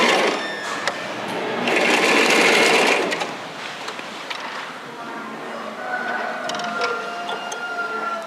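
A sewing machine runs back-stitches on a school-uniform skirt, starting with a loud whirring burst, then continuing in shorter bursts mixed with fabric handling and faint, intermittent whirs.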